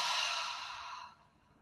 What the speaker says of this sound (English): take a normal breath in through your nose, not doing anything fancy, not getting into the Kapalabhati breath yet. And then exhale out the mouth.